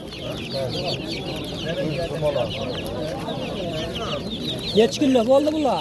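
Chickens and roosters cluck repeatedly close by at a busy Jomashuy poultry bazaar, the calls rising and falling while people talk over them.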